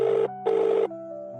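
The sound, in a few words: telephone ringing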